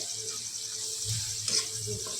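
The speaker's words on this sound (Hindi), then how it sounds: "मैं इसमें थोड़ा सा पानी डालूंगी" Water is poured into spiced dal masala cooking in a pan, a steady running, sizzling wash of liquid with a brief stronger splash midway and no speech.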